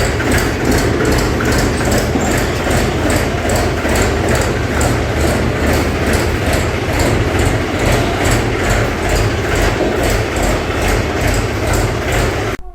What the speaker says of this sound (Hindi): ये ट्रैक्टर आजकल मतलब धक्का मार कर स्टार्ट होता है।